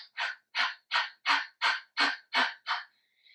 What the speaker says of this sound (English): it's almost as if you're panting like a dog that is hot